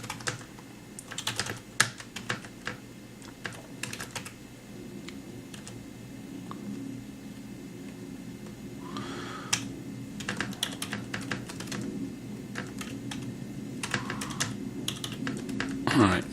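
Typing a Lua script on a computer keyboard, irregular bursts of crisp close key clicks with pauses between them, someone talking quietly underneath.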